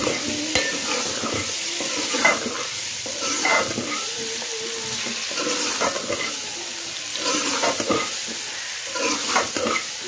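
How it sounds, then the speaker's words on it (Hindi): Okra frying with spices in a pan while being stirred: a steady sizzle with scraping, clattering stir strokes throughout, and no voices. "अच्छे से मसालों की बनाई करके उसके बाद जो है ना फिर मैं डालती हूँ भिंडी।"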